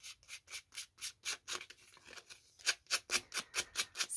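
Sandpaper rubbed back and forth over paper to distress it, giving steady rhythmic strokes about four per second, close and soft, with a short pause midway and no talk.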